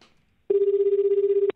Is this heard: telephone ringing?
yes